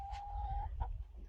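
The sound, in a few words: chickens clucking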